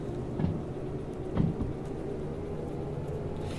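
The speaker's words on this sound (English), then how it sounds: "the rain is flying down, but I'd love the rain effect on this game" Steady rain hisses over a low rumbling background in the train game Derail Valley, with a couple of soft thuds; no one speaks.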